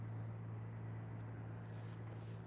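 A generator hums steadily amid construction near an airport, a low droning tone with a constant broadband rumble that stays even and moderately loud throughout, without speech.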